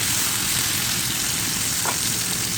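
Onions sautéing in a pan for an achari potato, eggplant and capsicum dish, giving a steady, even sizzle and crackle throughout, close and moderately loud, with no talking.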